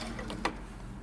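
A sewing machine stitching fabric for a dress or romper, making a brief quiet mechanical whir with a couple of soft ticking clicks, close and alone.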